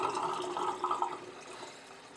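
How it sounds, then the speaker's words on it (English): Blix developer solution is poured back into its container, a close, soft trickle and gurgle of liquid that swells briefly and then tapers off, with no talking. "we're gonna pour the Blix back into the container to be used again later"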